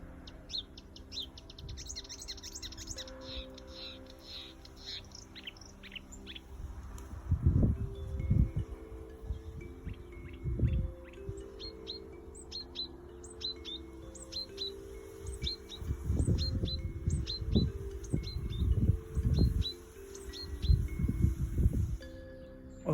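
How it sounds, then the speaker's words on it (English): A marsh warbler, rare in Britain, sings outdoors in a rapid run of thin high chirps and trills, steady throughout, with low rustling and gusty noise in the background. "a singing marsh warbler, a rare bird for Britain"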